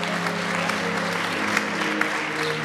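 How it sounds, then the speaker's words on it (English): A church congregation applauds, a dense, steady wash of many hands clapping at once, close and sustained throughout with no voices standing out. "put your hands together and give him a hand clap"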